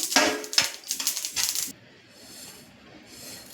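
Roasted sesame seeds poured onto a plate for making sweet laddus: a bright, clattering patter of small seeds hitting the plate in a few short pours, then quiet, with one last brief rattle.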